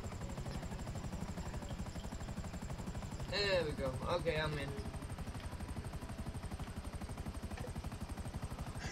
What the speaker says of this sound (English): That's a nice helicopter.